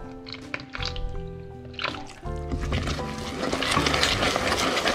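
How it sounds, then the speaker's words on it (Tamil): A tablespoon of vanilla stirred into a thick milk toffee mixture cooking in a pan, soft wet squishing and sloshing sounds close up, with clinks and stirring scrapes and a little background noise. "இப்போ இந்த நேரம் நான் வந்து இதுக்கு 1 மேசக்கரண்டி அளவுக்கு வெனிலா சேர்க்குறேன்."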